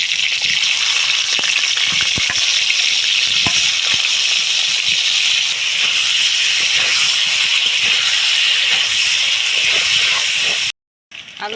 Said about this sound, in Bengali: এই তেলেই আমি আলুটা দিয়ে দেবো।